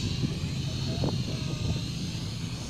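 A drone flown at full throttle over the government center in Bacolod City gives a steady, close propeller buzz with a droning motor whine that holds at an even level throughout.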